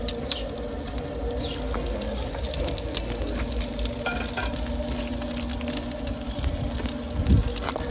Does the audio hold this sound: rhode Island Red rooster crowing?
no